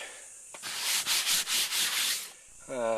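Sandpaper rubbed by hand over the fiberglass pontoon of a small catamaran, a steady run of close, rasping back-and-forth strokes after a brief scrape, with no talk.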